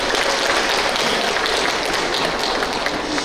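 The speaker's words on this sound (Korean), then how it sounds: "박수 한번 쳐주세요" Applause from an audience at a Buddhist culture expo talk, a steady, dense wash of many hands clapping together at an even level throughout, with no voices over it.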